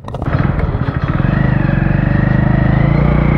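A Hero Splendor motorcycle starts up and settles into a steady, close engine thrum that carries on evenly, with a brief burst of clatter at the start.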